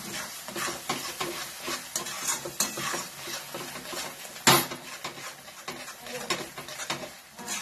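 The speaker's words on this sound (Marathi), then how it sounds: "हे बघा, अशा पद्धतीने चांगलं हलवायचं." A spoon works chicken masala with chili powder around a pan in quick, rhythmic scraping strokes over a light sizzle, with one sharp knock against the pan midway.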